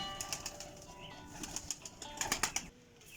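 Young pigeons, a costly breed of squeakers, flap their wings in several quick, close bursts of fluttering, each a few beats long, with short pauses between and no talk.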